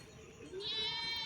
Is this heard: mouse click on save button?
no